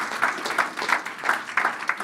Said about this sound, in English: Let's give Brian one more round of applause for that excellent improvisation.